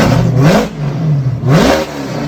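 A Corvette engine revs hard twice, each blip rising to a loud roar and falling back to a rumbling idle, close and with no speech.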